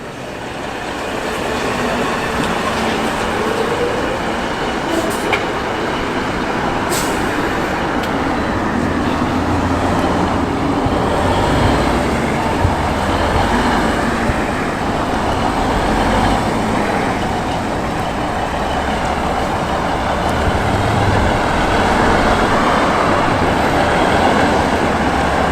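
A classic 1983–84 ERF Turbo A-reg lorry rumbles with a loud, steady diesel drone that holds unbroken for the whole stretch, mixed with broad road and outdoor noise and no voices.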